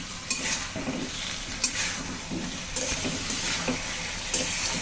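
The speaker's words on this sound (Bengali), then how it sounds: "এখন আমি দিয়ে দিচ্ছি এই কলাগুলো, তরকারি দিয়ে একটু ভালো করে কষিয়ে নেব।" Bananas are stirred in a spiced, oily curry in a pan, with a constant close sizzle of frying and repeated scrapes and taps of a spoon against the pan.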